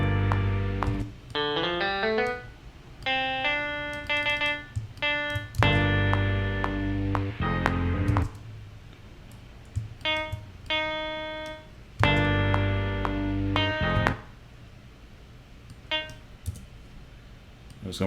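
A clean electric guitar plays a rhythmic part of short plucked chords and single notes in phrases separated by brief pauses, sounding close and dry with no voice.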